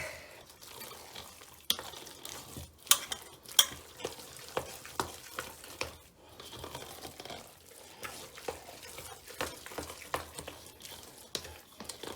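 A cornbread dressing mixture is stirred in a bowl with a spoon, giving a long run of wet, squelching scrapes and knocks, irregular and close, with no speech.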